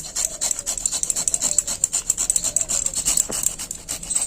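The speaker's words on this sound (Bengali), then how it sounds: "এবার আমি এই বিটটাকে কিন্তু কুরে এই রসটা কিন্তু বার করে নেব কুরুনি নিয়েছি এইভাবে আমি কুড়ে নেবো" Beetroot is grated by hand on a grater in a steady, close rasping rhythm of quick scraping strokes that continues throughout.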